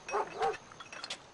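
A dog gives two short barks close by, followed by faint, scattered higher yips against a quiet background.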